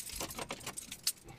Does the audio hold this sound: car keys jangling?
yes